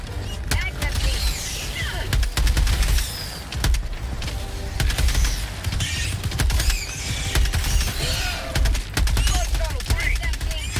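Rapid bursts of gunfire and mechanical clatter from the Helldivers 2 video game ring out close and loud, repeated throughout with creaking, reloading noises and shouted voices over the action.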